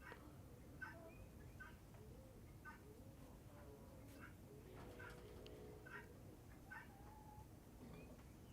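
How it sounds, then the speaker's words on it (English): A young kitten meows repeatedly, thin and fairly faint, against a steady outdoor background of noise and distant birdsong; no talking. "I see we have a new kitten kind of joining us here"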